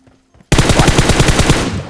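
Automatic gunfire in the mobile shooter PUBG Mobile erupts after a short quiet moment, a loud rapid burst of shots fired in quick rhythm that rings out to the end.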